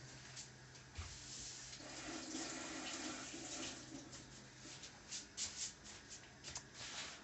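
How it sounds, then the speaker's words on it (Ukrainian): Water from a tap runs quietly and steadily over a freshly dyed Easter egg as it is rinsed, with soft splashing and wet handling noises growing a little louder toward the end. "Зараз його вимою водою."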